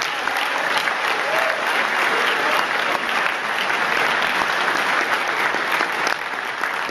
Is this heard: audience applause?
yes